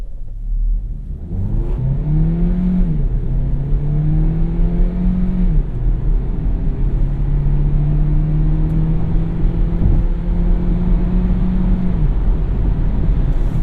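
A 2017 Kia Niro FE Hybrid accelerates from inside the cabin, giving a loud, steady engine drone whose pitch rises and shifts through gear changes over several seconds.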